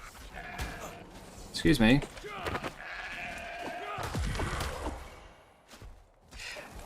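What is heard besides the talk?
sheep bleating in a video game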